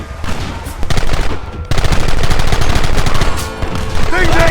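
A gunfight in the Red Dead Redemption video game erupts into loud, dense volleys of rapid shots that crack and echo almost without pause.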